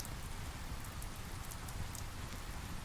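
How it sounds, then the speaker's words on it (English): Steady rain falls continuously, a dense even patter with no pauses, heard on its own without voices. "The rain provides a steady percussion that becomes part of my song."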